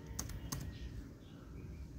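Quick keystrokes on a laptop keyboard come in a short burst of faint, close clicks at the start, then a quiet room hum follows.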